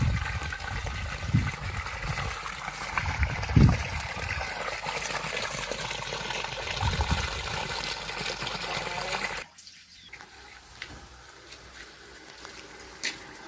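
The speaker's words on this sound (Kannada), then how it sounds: "ನೋಡಿ ಕುದೀತಾ ಇದೆ ಚಿಕನ್" Chicken boils in a covered pot while biryani is cooked in a village home. A steady, close bubbling and gurgling of liquid runs without pause, then cuts off sharply near the end, leaving only faint background.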